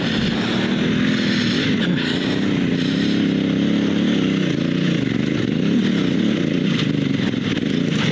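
A dual sport motorcycle on Metzeler Karoo 3 tires climbs a dirt hill, its engine droning loud and steady close by throughout, with slight rises in pitch as it pulls.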